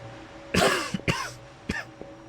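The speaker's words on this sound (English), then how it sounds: "coughing is not one of the things I want to say" A single person coughs a few times in quick succession, close and fairly loud, followed by a softer throat sound.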